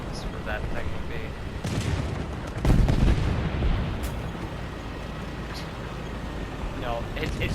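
Machine gun fire from a tank battle in War Thunder rattles amid heavy rumbling engine noise, with a louder burst in the middle while someone talks over it.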